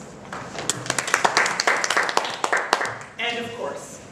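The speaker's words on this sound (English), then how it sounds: "giving a round of applause to all of those represented on local teams" Applause for charity fundraising walk teams at a gathering, a burst of many hands clapping for a few seconds, fairly close, with voices mixed in, then fading as a speaker resumes.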